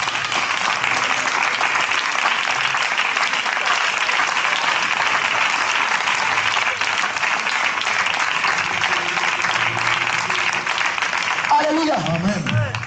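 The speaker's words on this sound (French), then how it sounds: "Give a clap of praise for your life." A church congregation claps in praise at a French-language evangelical service, a dense, sustained roar of applause that stays loud throughout before tailing off at the very end.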